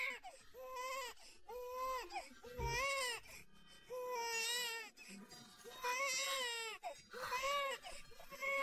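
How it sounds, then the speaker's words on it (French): A baby girl cries in repeated wailing bursts with short breaths between them, close and sustained, rising and falling in pitch. "tu entends? C'est ta fille qui pleure."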